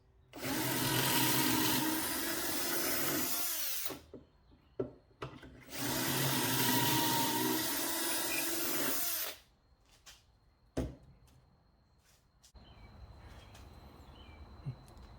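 Two long bursts of a loud, whining power drill boring pocket holes in wood for table joinery, each a few seconds, separated by clatter and handling noises, then quieter room sound.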